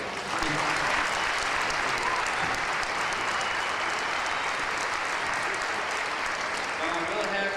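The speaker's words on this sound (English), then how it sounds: "let's make a small applause for him already" An audience at an equestrian clinic applauds a horse with continuous, dense clapping that stays loud and even throughout, with faint chatter underneath.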